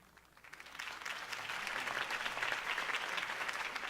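A crowd applauds after Harvey Dent's campaign speech in the Batman Telltale game, a dense steady patter of clapping that swells from quiet to full and holds without any voices on top.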